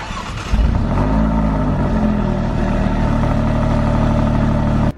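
An Alfa Romeo Stelvio QV engine running, loud and close: it rises sharply into a deep, sustained roar that holds steady, then cuts off abruptly at the end.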